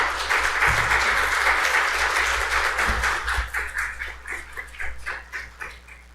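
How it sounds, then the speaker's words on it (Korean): Church congregation in a Sunday service auditorium applauds to welcome a pastor, steady clapping that thins and fades toward the end, with no voices. "나오실 때 박수로 환영해 주시기 바랍니다"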